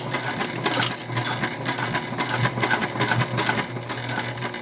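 A sewing machine runs steadily, top stitching fabric bow pieces an eighth of an inch from the edge, with a continuous close whir and faint rhythmic ticking throughout.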